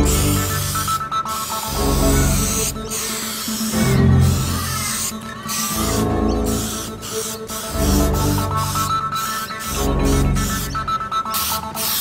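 Hissing aerosol spray from a spray can applying clear coat to plastic comes in bursts of a few seconds each, separated by short pauses, close and fairly loud, with no talking.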